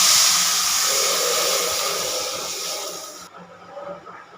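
Water poured into a pan of fried potatoes for a rohu fish curry, a loud burst of steamy hissing close by that gradually fades and softens.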